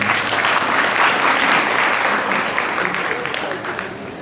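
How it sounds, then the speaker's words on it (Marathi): Audience applause at a community felicitation ceremony in Pimpalgaon, a dense, loud burst of clapping that holds steady before easing slightly toward the end. "जोरदार टाळ्या वाजवायच्या"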